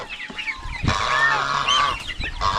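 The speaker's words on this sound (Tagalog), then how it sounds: "At yung gansa, pinakawala na." Geese honk loudly and harshly close by, several overlapping calls in quick succession.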